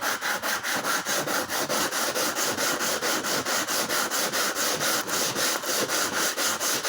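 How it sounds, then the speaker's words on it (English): A wooden violin bass bar being sanded by hand with sandpaper, rapid even back-and-forth rasping strokes, close and loud, continuing steadily throughout with no speech. "I'm not pressing it anywhere nearly as hard. I'm going to change the sandpaper soon."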